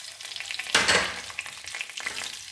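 Green chillies hit hot oil already holding cumin seeds and asafoetida, giving a sudden burst of sizzling that settles into a steady crackling fry, close by and with no talking.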